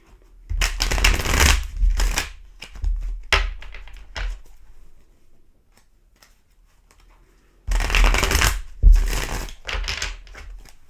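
Tarot cards being shuffled by hand in two separate bursts of loud, close riffling and shuffling, with a quiet gap between them and no talk.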